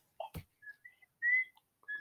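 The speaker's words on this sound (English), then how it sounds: "Who's whistling?" Someone whistles a short run of thin, high notes: several brief chirps followed by one longer held tone. A soft knock and a breathy sound come in near the start. The whistling is close and clear, with no talking.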